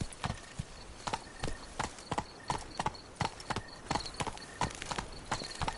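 Rhythmic hoofbeats of a horse galloping in The Witcher 3: Blood and Wine, steady clip-clop at a fast pace, close and clear.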